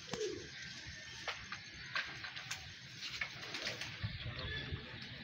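Pigeons on a rooftop coo softly in the near distance, with sparse ticking and scattered bird calls over a steady background hum.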